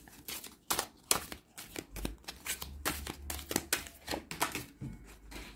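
Tarot cards being shuffled and drawn in a repeated run of crisp riffling flicks and slaps at close range, fairly quiet, with no speech.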